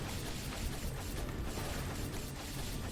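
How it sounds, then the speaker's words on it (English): Dense, continuous bursts of crackling blasts and shattering pops from mana gauntlet explosions in Skul the Hero Slayer, a steady loud wash of game effects with no gaps. "As you could see there was like a bunch of mana gauntlet explosions."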